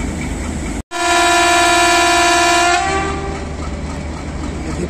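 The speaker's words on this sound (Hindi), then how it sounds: "powerful whistle" A Pakistan Railways locomotive, PH20-8322, sounds a loud, close, multi-tone whistle at Wazirabad station. The single sustained blast lasts about two seconds over the rumble of a crowded train leaving for Karachi, then fades out.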